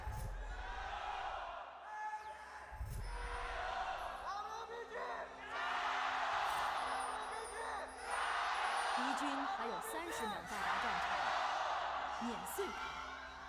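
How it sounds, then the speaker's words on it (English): A large crowd of esports fans cheers and shouts at an LPL League of Legends playoff match in a big indoor space, swelling in waves of roaring and whooping over continuous chatter. "the war cries, the battle cries of both teams sounding up from the fans in the audience"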